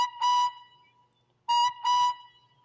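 A model locomotive's whistle sounds in two separate bursts, the second a quick double toot, each shrill and tonal and heard close up with quiet gaps between.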